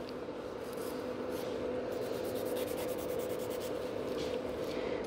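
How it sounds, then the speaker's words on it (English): Nail file working gel nails from underneath during a salon gel rebalance, a soft continuous scratchy rubbing close up, steady and faint, with no talking. "So I'm filing from underneath, just like this, to lift the nails up"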